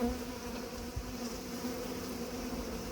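A whole honeybee swarm buzzing steadily up close, a dense continuous drone with a low hum that holds without pause, with no voices.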